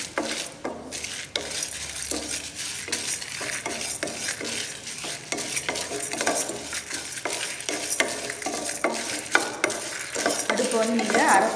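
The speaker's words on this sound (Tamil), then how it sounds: "நல்ல வாசனை வர அளவுக்கு இதை நம்ம வந்து வறுத்துக்கணும்" Dried red chilies and lentils dry-roasting in a pan for paruppu thuvaiyal, stirred steadily with a spoon, giving a repeated scraping rhythm over a soft, continuous sizzle, close up with no talk.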